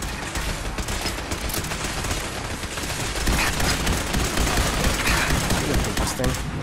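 Rapid gunfire in the video game Fallout 4, dense continuous bursts of shots filling the whole stretch, loud and close, with a voice faintly under it.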